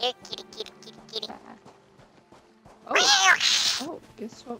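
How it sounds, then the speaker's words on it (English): A house cat yowls and meows loudly in a burst near the middle, with softer meows and a hiss-like noise before and after it, close to the microphone, while a person talks quietly at times. "You hear my cat on the other side of the mic probably hissing back."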